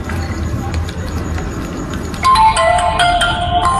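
Mobile phone ringtone from an incoming call, a bright melodic tone entering abruptly about halfway through over a murmuring room background, clear and fairly close.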